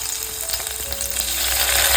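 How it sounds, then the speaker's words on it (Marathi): Ginger-garlic paste fries in hot oil as the tempering for a spicy stinging catfish curry, a loud, continuous close sizzle with faint stirring, no voices. "फोडणीसाठी पहिला आलं लसूण पेस्ट घालून घेतलेलं आहे."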